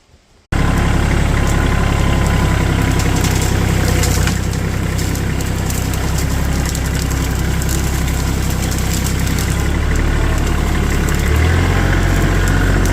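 A Kioti tractor engine idles and runs steadily and loudly at close range, with a constant low rumble and no talking, while it clears dead small trees and trash in a yard.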